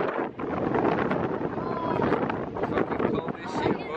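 Strong wind gusts on a cold, rainy day at an outdoor track meet, roaring steadily with buffeting against the microphone throughout.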